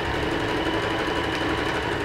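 A sewing machine runs steadily, stitching a straight seam and going forwards and backwards to close it off, with a continuous mechanical whir that stays up close and unbroken throughout.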